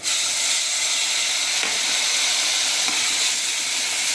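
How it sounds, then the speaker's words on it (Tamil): Ginger garlic paste sautéing in a pan for Tamil-style tomato rice, giving a steady, loud broadband sizzle with hiss and faint stirring scrapes, continuous throughout with no talking. "இது நல்லா வதங்கட்டும் அந்த பச்சை வாசனை போகிற வரைக்கும்"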